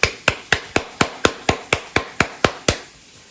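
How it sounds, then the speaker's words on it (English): A latex mask piece is smacked about twelve times in a steady rhythm to work out bubbles, each hit a sharp, close slap that rings briefly before the next, with no talk over it. "Another thing you can do to make the bubbles go away is to smack that thing around a bit."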